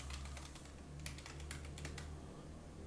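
Login username and password being typed on a computer keyboard, with soft, quick key clicks in bursts over a steady low hum, close and fairly quiet, no talking.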